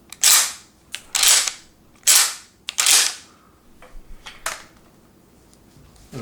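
An Ithaca Model 37 Featherlight Deerslayer pump-action shotgun with a single action bar is cycled repeatedly, giving four loud, sharp metallic clacks of the slide at roughly one-second intervals, followed by quieter clicks and handling sounds.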